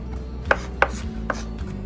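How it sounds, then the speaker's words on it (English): A knife chops ingredients for Korean BBQ tofu on a cutting board: three or four sharp, close thuds at an uneven, unhurried pace over a low background hum. "I'm just giving this a very rustic chop here, and what we want to do is get it a little bit finer"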